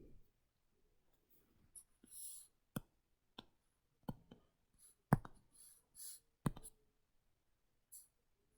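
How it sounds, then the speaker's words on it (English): Pen squeaks, marker-cap clicks and scratchy erasing strokes come in scattered short bursts while switching colors and wiping writing from a board, close and quiet, with sharp clicks between. "we're going to switch pen colors again. And erase these."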